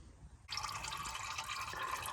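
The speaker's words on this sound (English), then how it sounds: "Pour all that junk oil down into the bucket." Old engine oil from a 2006 Chevy 1500 with a Vortec 5.3 pours into a drain bucket, a steady close splashing stream that starts abruptly and continues without pause.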